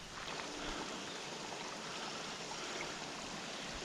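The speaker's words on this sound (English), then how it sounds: "it's like a little creek or stream or something here." Small creek flowing in Flume Gorge, New Hampshire, on a rainy day: a continuous broad rushing and gurgling wash of water, steady and fairly close, with no voices over it.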